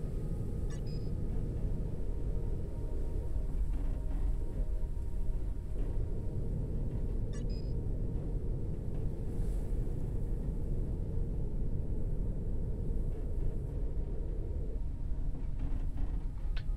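Steady low rumbling drone of a storm while an airship flies through the sky in the survival game Forever Skies, continuous and loud, with a few faint high beeps from the ship's controls.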